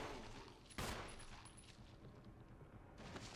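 Gunshots aimed at a zombie in Resident Evil HD Remaster: one sharp shot near the start and another toward the end, both fairly faint over a steady low game ambience, with no talking.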